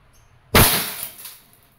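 A KWC P08 CO2-powered blowback airgun pistol fires a steel ball, one sharp loud crack with a metallic snap that rings briefly and then fades, heard alone after a short quiet moment.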